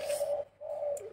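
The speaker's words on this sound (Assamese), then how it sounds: "সেই কপৌটোও মাতিছে" A domestic pigeon at a home in Assam coos twice, a soft near call with a brief pause between the two phrases, heard alone.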